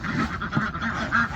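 Farm ducks kept beside a pig pen quack in short, repeated nasal calls, close and fairly loud, with several calls overlapping in quick succession.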